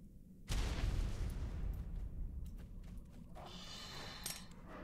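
A grenade detonates in the video game Ark Survival Evolved, one sudden loud boom that cuts in sharply and leaves a long rumbling, noisy tail fading slowly over several seconds.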